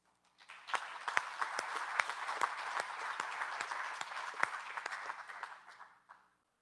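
An audience in a commencement auditorium applauds for about six seconds, a dense, even wash of clapping with sharp individual claps poking through before it fades out.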